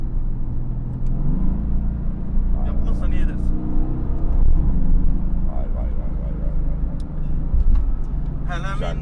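A Mercedes AMG GTS accelerates hard with a loud, deep engine roar that climbs through the revs from inside the cabin, continuous throughout, while people talk over it.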